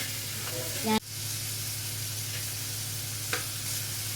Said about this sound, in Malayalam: അപ്പോൾ നമ്മുടെ സവാള നന്നായി വഴഞ്ഞു വരുന്നുണ്ട്.